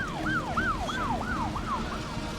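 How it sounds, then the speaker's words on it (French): Fire truck siren arriving at a burning ranch compound, a loud, repeating wail that sweeps up and down in quick regular cycles, heard alone with steady background rumble. "Les camions de pompiers arrivent enfin au camp"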